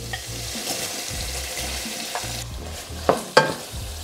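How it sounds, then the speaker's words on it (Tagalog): Pork belly frying in a pan, with a continuous sizzle under rhythmic low scraping strokes of stirring and a couple of sharp metallic knocks near the end, close and fairly loud. "ilagay na natin tong liempo or yung pork belly."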